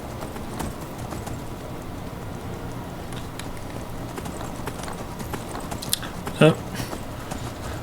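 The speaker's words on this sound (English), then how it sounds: "armor choices I get for my horse." Steady rhythmic clip-clop of horse hooves in the video game Skyrim under a constant wash of background noise, with a brief vocal exclamation near the end.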